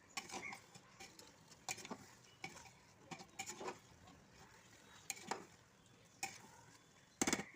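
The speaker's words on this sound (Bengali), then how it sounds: "হালকা হাতে মিশিয়ে নিলাম" Chicken and soaked rice are stirred in a pot with a utensil, giving soft scraping strokes and knocks at irregular intervals under a faint low sizzle.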